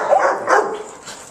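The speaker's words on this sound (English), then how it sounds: "You can hear the dogs in the back." Dogs bark and whimper in the background behind a frightened German shepherd, a few yips and whines rising and falling over a second or so, moderately close with no talk.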